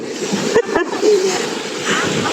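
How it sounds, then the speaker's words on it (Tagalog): Children jumping into a fast-flowing river, a couple of sharp splashes in quick succession over continuous rushing water, with a voice talking over it. "Yung mga bata nagtatalon sa ilog"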